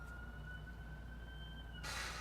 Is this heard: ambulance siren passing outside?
yes